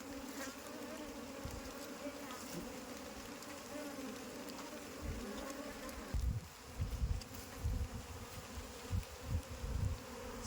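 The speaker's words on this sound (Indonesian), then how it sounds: "Seperti inilah kondisi lebahnya, sangat banyak sekali" A large swarm of aggressive Apis cerana bees buzzes continuously during a colony transfer in light drizzle, a dense, droning hum; soft low thumps join the buzzing in the latter half.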